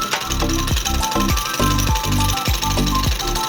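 A sewing machine runs with a rapid, heavy mechanical rhythm, repeated thumping beats over a dense whirring hum, loud and close.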